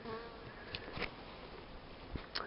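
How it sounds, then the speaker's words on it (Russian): Bees buzz in flight in winter, a faint, continuous droning hum with a few brief louder passes close by. "пчелы уже летают полностью"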